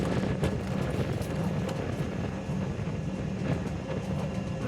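The Shaktipunj Express on its run from Howrah toward Beohari, a continuous rumbling roar of wheels and carriage noise heard from on board, steady and moderately loud throughout.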